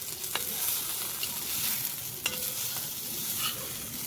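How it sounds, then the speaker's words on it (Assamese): Vegetable fry being stirred in a pan at home, a spoon scraping and turning the food in a few distinct strokes over a steady, soft sizzle of frying, with no voices. "সেইখিনি ভাজি মই অলপমান লাৰি দিওঁ"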